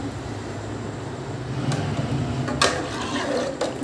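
Water pours into a cooking pot while dal is being prepared, a low running splash that grows a bit louder midway, with a few sharp clinks near the end.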